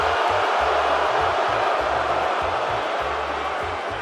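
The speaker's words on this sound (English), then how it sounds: "they're booing so loud" A large arena crowd at WrestleMania roars steadily throughout, a loud continuous wash of booing voices with a low rhythmic thumping underneath.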